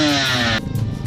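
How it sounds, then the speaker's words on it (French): Racing motorcycle at a technical inspection in the paddock, its engine held against the rev limiter in a steady high buzz for about half a second before dropping back to a rough, lumpy idle. "Ça fait rupter la moto."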